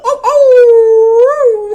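A cartoon dog called DJ Dog, also named Sprinkles, lets out one long, loud, rising howl in a cosy kitchen scene of the dating game I Love You Colonel Sanders, with a short yip before it.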